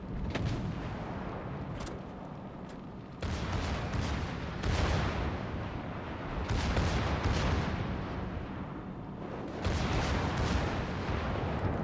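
Heavy battleship gunfire in World of Warships, with AP shells striking the ship: dense, rumbling broadband salvos and impacts that come in several sustained surges, loud and close, with no voices.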